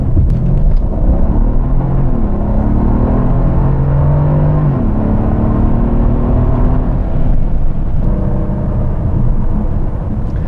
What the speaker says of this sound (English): The twin turbos don't do anything to affect the noise of this beast.